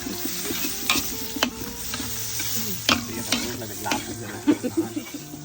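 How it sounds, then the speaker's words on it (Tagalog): Garlic and onion fry in a hot pan with a continuous sizzle, broken by repeated sharp scrapes and clicks as a utensil stirs them, close and moderately quiet. "halo natin kaagad yon bawang at saka onion"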